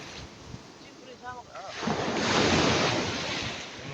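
Sea waves wash onto a beach shore, rising into a broad rushing surge and then fading slowly amid wind noise. A brief voice is heard just before the wave breaks.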